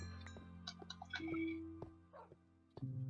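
A dog barks in Minecraft on Xbox 360, several short yips and barks in an irregular run over steady game tones, fairly close and moderately loud.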